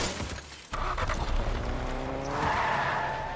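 Car driving and skidding in the Fortnite video game, with a steady engine drone and a rising tire squeal near the end, loud and close, with no talking.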